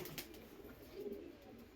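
Pigeons coo softly at close range while gathering to feed, a low murmuring call rising briefly in the middle over a steady faint background.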